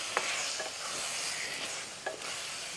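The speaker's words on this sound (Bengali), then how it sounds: "ম্যারিনেট মাংসটাকে ভালো করে নাড়াচাড়া করে নেব।" Marinated chicken is stirred into fried onions in a frying pan for chicken biryani, a constant sizzle broken by a few quick spatula scrapes.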